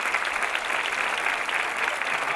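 A crowd at a campaign rally applauds steadily, a dense, continuous wash of clapping that stays loud and even throughout the short stretch.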